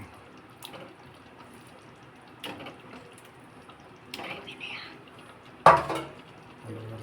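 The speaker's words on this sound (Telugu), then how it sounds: "ఈ చేప ముక్కని ఇలా వేసి" Pieces of fish drop into a pot of fish curry, a few soft splashes and clinks with one louder plop of a piece landing, amid quiet kitchen handling noise.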